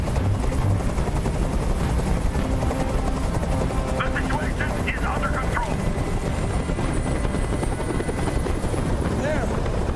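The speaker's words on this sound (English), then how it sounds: "I can't stand that noise anymore! Tell that helicopter to get out of here!" A helicopter hovers in the Detroit: Become Human video game, its rotor making a loud, steady drone that fills the whole stretch while a voice speaks over it.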